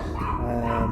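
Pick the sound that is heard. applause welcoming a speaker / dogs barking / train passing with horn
dogs barking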